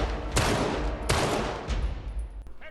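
Gunshots in Uncharted 3: Drake's Deception, two loud sharp reports about a second apart followed by a fading rumble and a fainter crack near the end.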